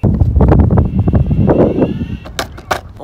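Strong gusty wind buffets the microphone with a loud, rough low rumble, easing off toward the end, where a few sharp clicks come through.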